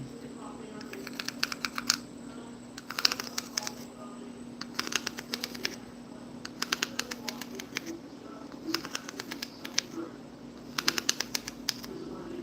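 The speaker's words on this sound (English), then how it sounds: "It literally sounds like a colored pencil." Quick bursts of dry scratching, like a colored pencil scribbling on paper, repeating in short clusters over a faint steady hum.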